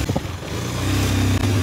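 A motorcycle ridden on a hilly road after rain, its engine building from a low clattering idle into a steady, loud drone, close to the microphone.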